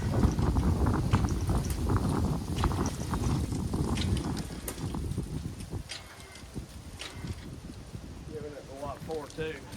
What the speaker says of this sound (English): Hard to tell with the daggone wind.